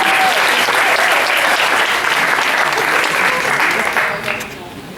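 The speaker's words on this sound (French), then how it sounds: "je vous applaudis déjà" Loud, sustained applause from the audience at a school diploma ceremony, thick continuous clapping that holds steady before thinning out near the end.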